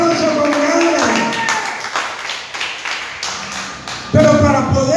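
Church congregation applauding, a dense patter of clapping heard alongside an active voice and background talking, thinning in the middle before a raised voice returns near the end.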